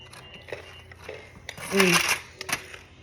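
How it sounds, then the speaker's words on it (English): A crackly crunch as a knife saws through a crusty, still-warm croissant sourdough loaf, with a few scattered crisp crackles and a louder crunching burst in the middle. "Hear that crunch?"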